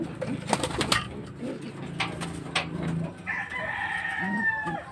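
Racing pigeons at a loft in Rosario, Pangasinan, as the first bird returns home: bird calls and fluttering come through steady outdoor noise, with a rooster-like crow rising near the end. No talking.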